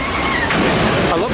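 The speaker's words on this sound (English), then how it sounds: "Going down the big trough there, that is Daredevil Falls, Dollywood's log flume ride." Log flume boat splashing down the big water trough of Daredevil Falls at Dollywood, a broad continuous rush and slosh of water, fairly loud, with crowd noise and talk mixed in.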